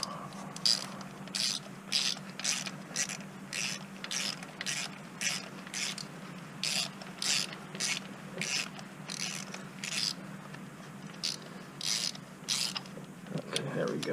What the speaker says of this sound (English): Alright, so we'll tighten that down pretty good.